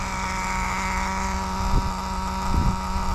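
An XTM X-Cellerator nitro RC car with an RS4 engine drones steadily at close range. The engine note is buzzy and sustained, with a couple of brief rev bumps near the end.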